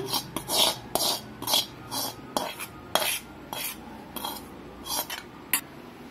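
Beaten egg with chopped onion is stirred briskly in a bowl for an omelette, a spoon scraping and clinking against the sides in about a dozen regular, close strokes.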